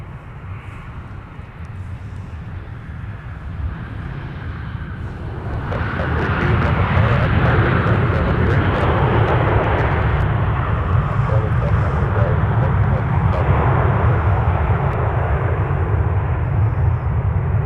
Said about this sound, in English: here's our inbound flight from Tampa